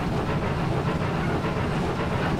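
BR86 steam locomotive under steam in Train Simulator 2019, a continuous loud hissing and chuffing rumble with faint rhythmic rail clatter, steady and close.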